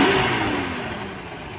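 A carbureted Toyota 2F engine in a 1965 FJ45 revs loudly and close, then the engine note eases down gradually over a couple of seconds, with no voices.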